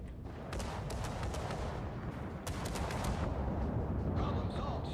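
Warship gun salvos in the World of Warships game, booming and crackling continuously with rumbling explosions and layered shot reports under a dense, loud battle din, without pause.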